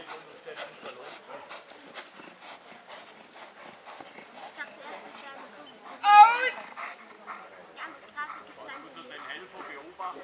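A dog whimpers and yaps in short bursts, one louder whining outburst midway, while people talk nearby at a dog club holiday program.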